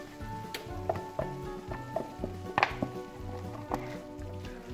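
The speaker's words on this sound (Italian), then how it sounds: "mescolo un po'" Spaghetti tossed with zucchini and mackerel in a pan over a switched-off flame, a soft steady sizzle carrying repeated scraping and knocking stirring strokes at a close distance, without any talk.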